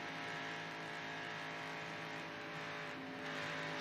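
Chevy and Ford stock cars racing at the 1994 Daytona 500, a steady loud roar of engines throughout the clip, swelling slightly near the end as the cars close in.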